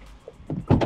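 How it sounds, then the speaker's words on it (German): A taxi's car door being opened, heard as a soft click followed by a louder clunk and rattle up close, with no speech. "Machst du mal die Tür auf?"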